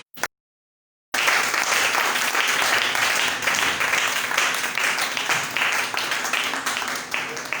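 A church seminar audience applauds loudly and steadily for several seconds with dense clapping throughout, coming after a brief moment of silence.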